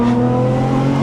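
A 600-horsepower Nissan Skyline engine revs loud and close, a sustained deep growl with strong steady harmonics and no talking.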